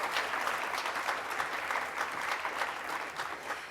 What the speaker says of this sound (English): let's give a great round of applause for all of our student teams that are participating today